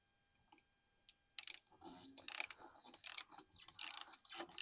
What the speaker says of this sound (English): We're just going to unscrew this for you